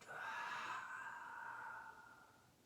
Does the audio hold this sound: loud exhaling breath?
yes